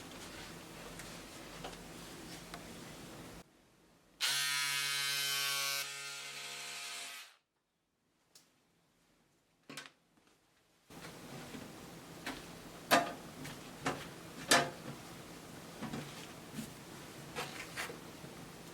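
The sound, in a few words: cutting out fabric for a kimono dress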